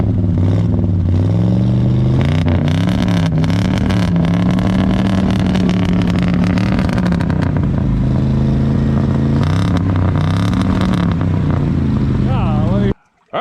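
A 1965 Ford Galaxie 500 engine, first started in 30 years, runs and revs loudly, its pitch rising and falling, with rattling clatter throughout before cutting off abruptly at the end.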